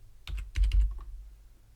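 Several quick keystrokes on a computer keyboard, entering a number into a design program; a short burst of close taps, a little clustered and fading out, with no talking.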